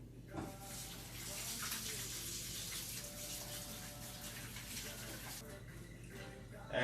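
Hands are washed under a running kitchen tap after handling sticky doukounou, a continuous close splashing rush of water that holds steady for several seconds with faint background hum.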